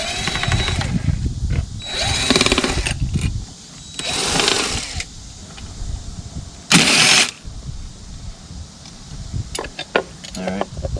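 A power driver whirs in short bursts while backing out Phillips screws from an outdoor light fixture housing, close and mechanical, with clicks, handling noise and a sharp burst amid quieter stretches.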